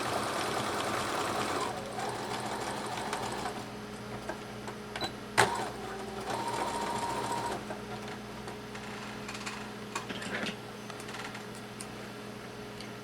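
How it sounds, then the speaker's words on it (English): A sewing machine runs forward and then in reverse to lock a stitch in sock fabric, giving quiet, close mechanical whirring in short stretches, broken by pauses and a sharp click partway through. "I go forward, I stop, and I put my machine in reverse, and I lock that stitch in place"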